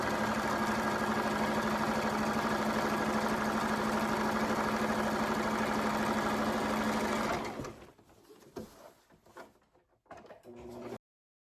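A sewing machine stitches a quilt block along a marked line, running in a loud, continuous whir for about seven seconds before stopping, followed by quieter handling noises.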